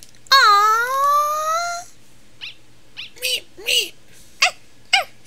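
Greater Dog in the video game Undertale: a long, rising, whining howl, followed by several short, sharp yips and barks at irregular intervals, loud and close.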